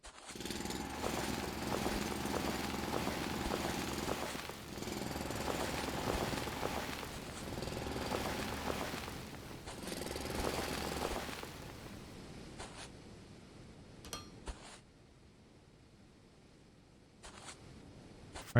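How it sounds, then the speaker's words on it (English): Drilling machinery in the factory-building game Foundry grinds in loud, sustained bursts that start and stop several times, then gives way to quieter clicks and short mechanical blips. "it looks like I need to do a bit more drilling"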